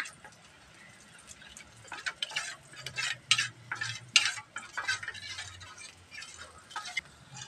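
A spoon stirs chili and turmeric powder into water in a small bowl, giving a run of close, scraping, clinking swirls that build to quick repeated strokes and then ease off.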